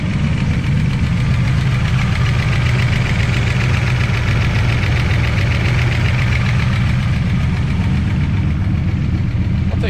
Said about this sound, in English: Really get some heat in the motor, you know, go through the gears and stuff.